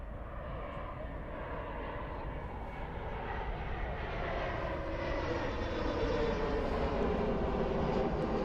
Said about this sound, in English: As another airplane goes by over our heads.